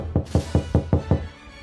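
Six sharp knocks in a quick, even rhythm, loud and close, each with a short resonant decay, then a moment of quiet room tone.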